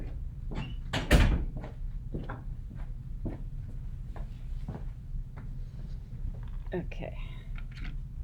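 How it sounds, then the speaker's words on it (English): An indoor door is shut with one sharp thud near the start, followed by quiet handling noises and soft whispered voices. "I'm gonna shut the door."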